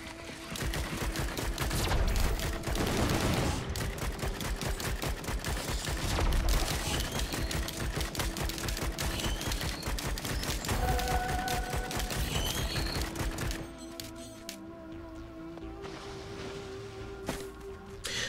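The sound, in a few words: gunfire from the player's gun in Risk of Rain 2 video game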